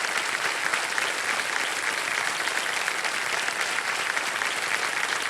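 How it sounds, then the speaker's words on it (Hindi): Studio audience applause on the KBC TV quiz show, a dense, even wash of many hands clapping, sustained and fairly loud throughout with no voices over it. "एक बार जोरदार तालियां हो जाए"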